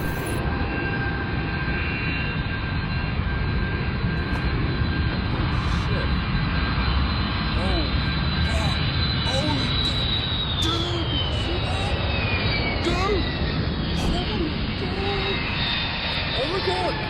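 An airplane sways side to side and rolls over in flight. Its engine roars loud and steady throughout, and the pitch slowly sweeps downward as it manoeuvres.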